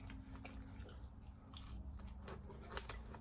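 Crunchy cornbread crust, made with buttermilk powder, is bitten and chewed up close, giving several sharp crunches over soft, wet chewing.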